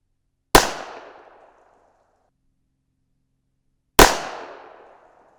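Two sharp pistol shots from a .25 ACP handgun firing reloaded ammunition, about three and a half seconds apart, each a loud close crack with a short decaying tail.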